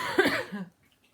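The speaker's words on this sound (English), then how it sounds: "he's got a cough as well" A man gives a single short, throaty cough, close and fairly loud, followed by silence.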